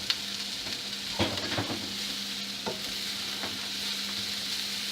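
Food caramelizes in a hot pan with a steady sizzle, broken by a few sharp clinks and scrapes of stirring.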